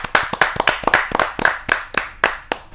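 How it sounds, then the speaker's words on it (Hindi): An audience at a Hindi kavi sammelan bursts into hearty applause for poet Sushma Garg, sharp clustered claps in quick uneven bursts, close and lively, with no voices over them. "जोरदार ताली के साथ"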